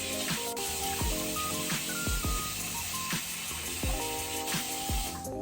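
Water runs steadily from a sink tap while someone rinses their face, a continuous hissing spray broken by repeated splashes and cupped-hand slaps, close and fairly loud throughout.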